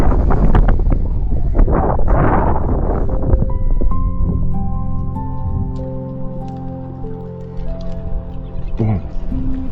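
Strong wind buffets the microphone while riding an Inmotion V1 electric unicycle outdoors, a constant loud low rumble for the whole ride, with a steady motor whine emerging in the second half.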